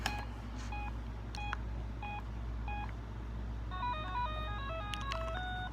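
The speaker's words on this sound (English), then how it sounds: "That's what it does when you first turn it on." A 1989 VTech Talking Mini Wizard handheld game powering on plays its startup jingle of short electronic beeps, then a quick rising run of tones, faint over a steady low hum with no talking.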